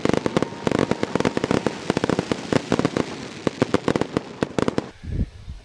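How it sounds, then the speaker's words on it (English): Fireworks at a Canada Day community celebration pop and crackle in a rapid, dense barrage of sharp bursts, loud and fairly close, ending abruptly in a lower rumble. "at some point I'll add some fireworks in"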